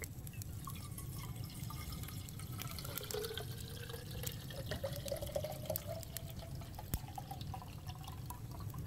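Water running steadily from a sink tap into an aluminium kettle in a Scottish cottage, a continuous soft trickling wash with faint dripping tones, quiet and close, with no talking.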